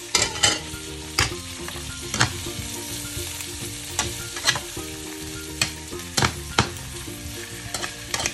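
Sliced carrots sauté in a hot pan, a continuous close sizzle broken by repeated scraping stirs every second or so, with no talk.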